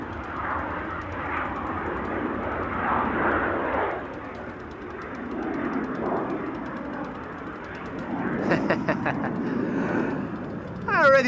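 A business jet takes off at Amsterdam Schiphol Airport, its engines a loud, sustained roar that swells and fades, with a brief burst of higher-pitched tones near the end.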